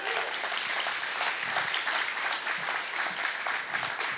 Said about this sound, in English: Can we give Pam a round of applause?